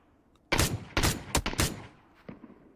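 Gunfire in the video game PUBG, a burst of four or five sharp, loud shots in quick irregular succession, followed by a fainter single shot a moment later.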